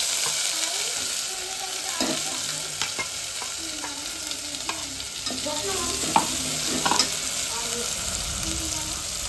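Green masala paste frying in oil for Kolhapuri tambda rassa, a steady close sizzle with scattered spoon scrapes and clicks against the pan, no voices.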